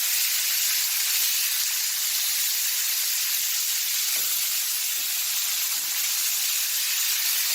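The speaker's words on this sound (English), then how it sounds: "I got those pieces of fat rendering down here so we can get the flavor." Pieces of beef fat render with thyme and rosemary in a hot cast iron skillet, giving a steady, close, even sizzling hiss that runs throughout with no talking.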